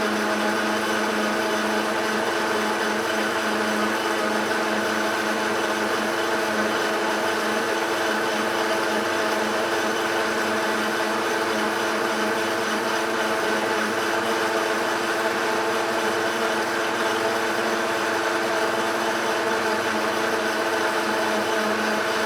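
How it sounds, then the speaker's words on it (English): A Ninja Foodi hot/cold blender whips cream with strawberries, running steadily at high speed with a constant loud whirring drone and no pauses. "if the blender goes high enough, I should be able to whip that cream"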